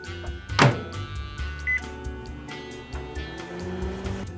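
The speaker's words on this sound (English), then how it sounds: "if you heat up a piece of pizza in the microwave" A kitchen microwave heats a slice of pizza alongside a glass of water, a steady hum mixed with light clatter and a short electronic beep.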